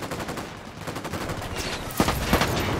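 Gunfire in Ghost Recon Wildlands: a rapid run of close shots that grows denser, then a couple of louder, sharper cracks near the end, with no talking.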